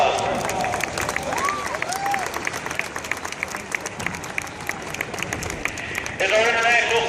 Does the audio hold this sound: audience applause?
yes